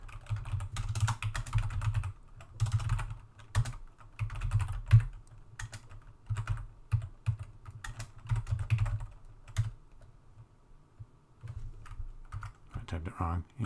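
Close-up typing of C code on a computer keyboard: rapid bursts of clicking keystrokes in irregular runs with short pauses, fading toward the end.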